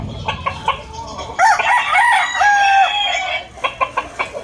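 A gamecock transported by bus to Albay in Bicol crows loudly nearby, one long cock-a-doodle-doo with clucking before and after.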